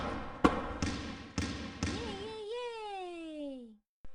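Ball tossed into a pink basket in a preschool kids' video game: a few soft bouncing thumps in a row, followed by a bright, falling chime-like jingle.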